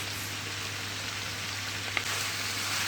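A constant, even crackle of tomato paste frying in a pan for jollof rice hisses steadily, with a faint low hum underneath and one small tap near the end.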